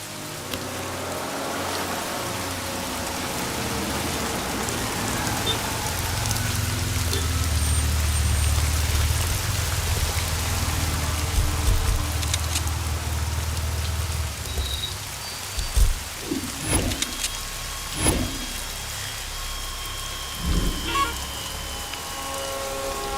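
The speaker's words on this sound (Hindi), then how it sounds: "सिद्धू, इस बारिश में मैं तुम्हारी बाहों में हूँ।" Heavy rain falls in a steady, dense wash while a deep low rumble of thunder swells in the middle, followed by a few sharp nearby knocks or cracks.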